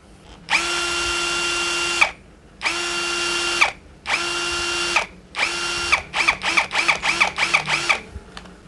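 Nagawa NCB02-13 hammer drill in hammer mode at speed 1, close and loud, running in four longer whining bursts, then a quick series of short on-off pulses.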